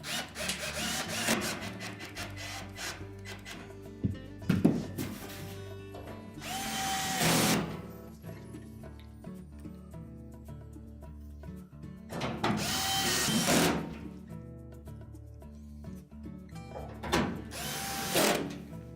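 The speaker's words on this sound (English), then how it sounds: "Then just line up the screw holes and install the screws." A power drill drives screws into the back panel of a Whirlpool washer, whirring in several separate bursts of a few seconds each. Quieter handling and rubbing noises fill the gaps, and no one speaks.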